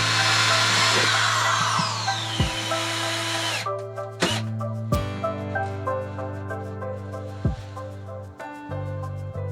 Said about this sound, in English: Now I've got the next cabinet drilled out with the locking hardware in it.